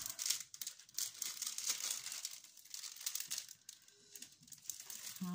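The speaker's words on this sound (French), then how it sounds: "je vais soulever le papier pour essayer un petit peu de la dégondoler" Transparent plastic wrapping paper, long used to wrap an item, is lifted and crinkled to flatten it, giving a steady, close, fairly quiet run of rustling crackles with small crisp pops.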